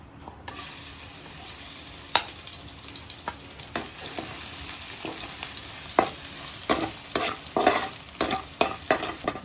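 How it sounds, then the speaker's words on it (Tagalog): Garlic sautéing in a pan for lomi noodle soup, a continuous close sizzle broken by repeated scraping stir strokes that quicken toward the end. "magigisa na tayo ng sibuyas, bawang. So bawang muna tayo"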